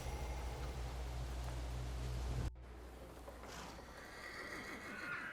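Horse whinnying in the dark 1900s isometric RPG The Thaumaturge, a clear neigh over steady rain-like ambience, which cuts off abruptly and gives way to quieter background sound.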